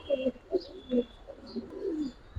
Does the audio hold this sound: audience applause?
no